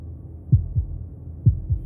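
Low, thudding heartbeat effect from the game Slay the Princess, heard as two slow lub-dub pairs, close and heavy against a soft droning background with nothing else present.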